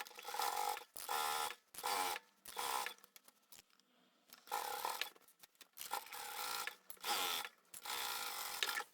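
A sewing machine stitches the side seams of a handbag in several short bursts of rapid mechanical whirring, separated by brief pauses, close and fairly quiet.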